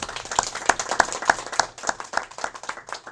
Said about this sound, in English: Let's give a big round of applause to Mike Regan.